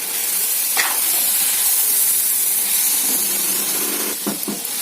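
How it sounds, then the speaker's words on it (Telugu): Continuous close sizzling and spitting of masala, salt and chili frying in oil with mutton for a curry, with a few scraping stirs and clinks near the end. "బాగా ఇలా అయితే మసాలా అంతా వేగాలండి"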